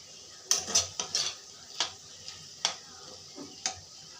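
Spices frying with ridge gourd in a pan come through as a series of sharp metallic clinks and scrapes of a spatula against the pan, spaced irregularly over a quiet, faint sizzle.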